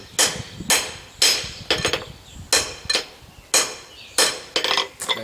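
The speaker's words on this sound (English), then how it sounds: "that is receiving all the impact from the hammer" A hammer strikes a hot steel bar being forged into a sign bracket, ringing out in sharp, loud metallic blows at a steady, slightly uneven rhythm, about ten hits close by.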